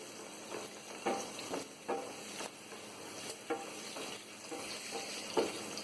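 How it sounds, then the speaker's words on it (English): Onions and chilies frying in a pan for a bitter gourd curry, a steady soft sizzle under repeated scraping stirs of a spoon at a fairly even rhythm, moderately faint and with no talking. "the onions fried nicely into golden brown color, and chilies also nicely fried"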